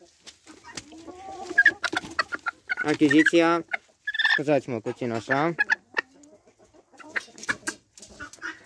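A bearded bantam hen clucks and calls in a few clear bursts close by, mixed with a person talking softly around her.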